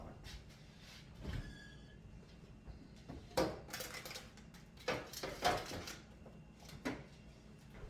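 Biscuit dough ingredients get mixed in a bowl: faint, intermittent clinks, scrapes and knocks of a utensil against the bowl, in a quiet kitchen.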